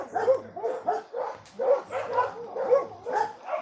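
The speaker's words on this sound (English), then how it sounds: "And the dogs are barking like crazy." Several dogs bark repeatedly in a rural countryside setting, a steady rhythm of medium-near barks with a few yips and whimpers mixed in, no talking.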